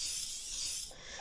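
Oil spray mist sprayed over lasagna noodles spread on a rimmed baking sheet, a steady close hiss that runs for about a second before easing off.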